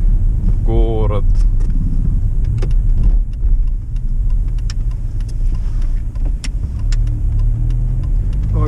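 A Chevrolet Silverado pickup truck drives on an icy road on a winter morning, its engine a steady low rumble with road and tire noise throughout, heard from inside the cab, with a brief voice near the start.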